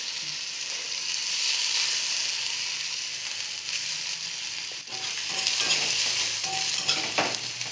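Chopped garlic fries in a pan alongside bay leaves over lowered gas, a continuous close sizzle with bright hiss and occasional scraping stirs throughout.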